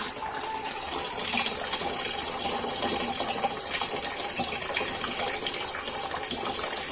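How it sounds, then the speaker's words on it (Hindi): Water gushes from a kitchen tap in a steady broadband rush that surges and eases irregularly, loud and close, with no voices. "ये देखिए अब जाके पानी आया, फ्लो देखिए इस पानी का।"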